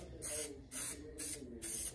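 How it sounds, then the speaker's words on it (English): Four short bursts of spray contact adhesive, each about a quarter second long, hissing loudly at a steady rhythm with brief pauses between them. "use some contact adhesive, spray contact adhesive, and I just lightly coat the"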